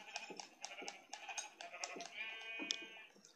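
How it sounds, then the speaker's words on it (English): Sheep in the Minecraft video game bleat repeatedly in short, evenly spaced calls, one longer wavering bleat near the end, fairly close and clear with no one talking over them. "Sheep, hello. I want your wool now."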